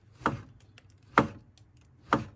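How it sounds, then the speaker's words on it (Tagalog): A knife slices through a matsutake mushroom on a cutting board for a rice dish, three crisp, separate cuts spaced about a second apart, close and fairly quiet. "hinihiwa ng asawa ko ang mastake para ilagay doon sa kanin na iluluto namin."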